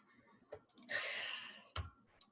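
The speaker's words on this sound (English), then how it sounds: "And we'll double click there." Faint, close computer mouse clicks, a quick double click heard at the start and again later, with a soft breathy rustle between them in a quiet room.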